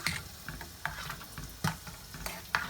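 A piece of butter being stirred into cooked white rice in a pot: a few soft scraping strokes at a steady pace over a faint sizzle, close by, with no voices.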